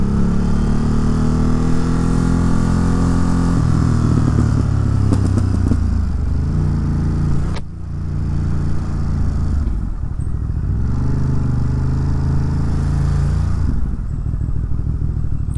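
A decatted Ducati motorcycle engine idles with a deep, steady exhaust rumble, close and loud, with a couple of brief revs and a metallic clatter partway through.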